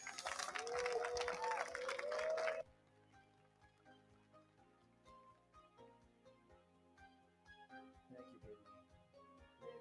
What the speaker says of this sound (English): please give a round of applause for the CEO of Toptier Trader